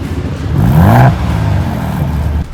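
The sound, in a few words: truck exhaust revving in sport mode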